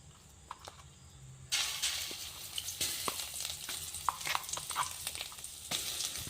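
Ground onion chutney mixed into a hot pan of frying oil tempering hisses into a sudden sizzle, followed by steady crackling with scattered scraping clicks of a spoon stirring, close and moderately quiet.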